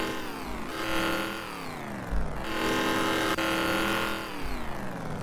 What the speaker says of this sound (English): But check out the sound of this engine here.